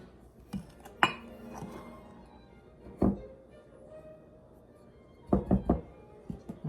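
Bread roll dough being mixed in a bowl, heard as scattered knocks and clinks of a utensil against the bowl, with a few sharp taps and quieter scraping between them. No one speaks.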